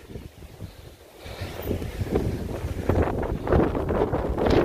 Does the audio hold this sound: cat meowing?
no